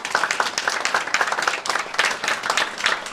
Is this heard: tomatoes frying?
no